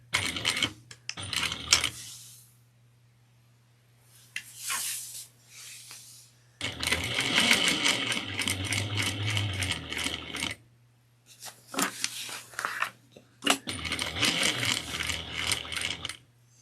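A sewing machine stitches boxes onto a tote bag in several separate bursts of fast, close mechanical whirring, with quiet gaps and small clicks between runs.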